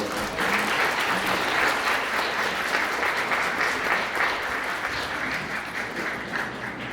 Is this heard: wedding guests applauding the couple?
yes